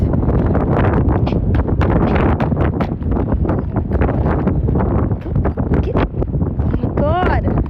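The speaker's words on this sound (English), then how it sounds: "the wind" Strong wind buffets an outdoor microphone near the USS Wisconsin, a loud constant roar and rumble filling the whole stretch, with a faint voice-like tone rising briefly near the end.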